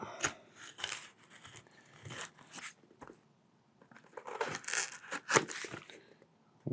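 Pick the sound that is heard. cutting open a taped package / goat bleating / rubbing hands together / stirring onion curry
cutting open a taped package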